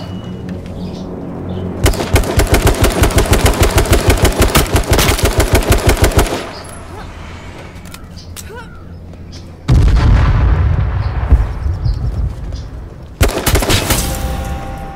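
Rapid automatic gunfire from the video game H1Z1 rattles in long sustained bursts, loud and close, with a couple of heavier booming volleys separated by quieter gaps of background game noise.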